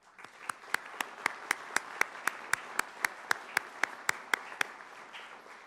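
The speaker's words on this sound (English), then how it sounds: "I ask our audience to give them our applause." Audience applause for faculty at a college commencement ceremony, with steady rhythmic hand claps ringing out clearly over a softer spread of clapping across the crowd, lasting several seconds.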